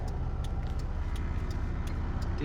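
An old Toyota car drives out of a car park onto a highway, its engine giving a steady, close, low rumble with a light ticking over the top throughout.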